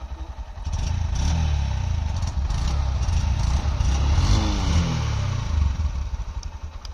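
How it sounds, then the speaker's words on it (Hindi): Honda 125 commuter motorcycle engine running close by, starting low, then settling into a steady, quiet putter with slight rises in revs before fading back down near the end. "आवाज की भी बात करें तो आवाज भी दोनों में सेम है, दोनों का सेम इंजन है"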